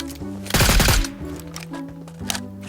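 Gunfire in the mobile battle-royale game PUBG Mobile, Metro Royale mode: one loud burst of rapid automatic shots near the start, followed by quieter game ambience and faint distant clicks.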